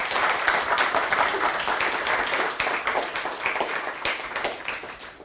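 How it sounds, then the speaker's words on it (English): Audience at a panel discussion on public sector unions and democracy applauds the guests, a steady, moderately loud wash of clapping that holds through and thins slightly toward the end. "let's give our guests a round of applause"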